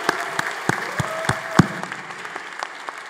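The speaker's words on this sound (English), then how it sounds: "give them a big hand of applause" Scattered audience applause at a university commencement ceremony, individual sharp claps standing out over a softer bed of clapping, moderately near and fading slightly over three seconds.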